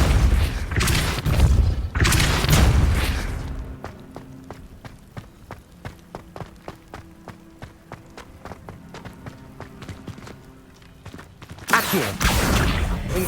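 The Depulso repelling spell goes off in the Hogwarts Legacy video game with heavy booming blasts at the start and end, and a run of quick, light rhythmic footfalls in between.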